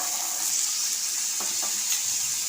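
Chickpeas sauté in hot oil with asafoetida, red chilli powder and turmeric, giving a continuous bright sizzle with a couple of soft stirring scrapes, close and steady with no voices.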